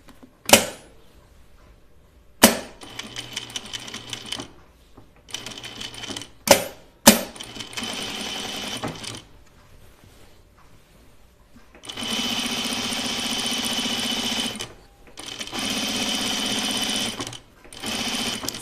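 A sewing machine stitches a shirtdress in short separate bursts, each a rapid mechanical whir, with louder sustained runs near the end and quiet pauses between them.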